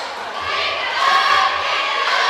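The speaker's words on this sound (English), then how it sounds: "He's got the crowd going." Crowd at a high school basketball game between the Dons and Kennett, cheering and shouting in a sustained, loud, dense roar that swells slightly midway and holds steady.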